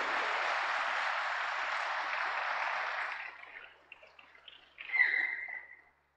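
Audience applause in a conference keynote hall at a Python event, a dense steady wash of clapping for about three seconds that thins into scattered claps and fades, with a brief vocal sound near the end.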